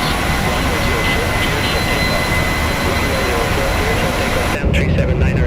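Boeing 737-800 jet engines in the PMDG flight simulator, a GOL flight on its takeoff roll at Uberlândia: a loud, steady broadband roar that shifts in tone near the end.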